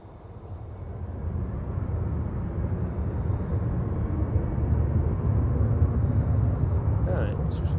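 An Aegean Airlines plane takes off at Edinburgh Airport, its engines a broad, steady roar that swells and holds for several seconds.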